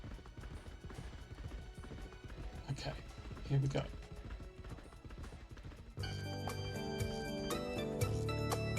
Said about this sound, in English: The horse fades away into the sunset.